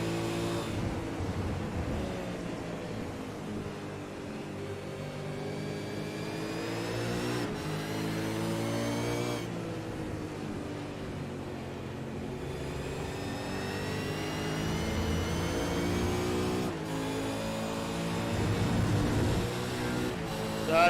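A race car's engine heard from on board during a lap at the Red Bull Ring, a continuous loud drone that rises and falls with gear shifts and throttle, briefly easing off twice, with no talking.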